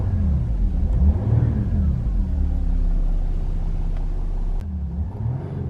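Diesel Range Rover Velar engine turning over by push button and settling into a steady idle, a close low rumble with slight revving swells, no talking.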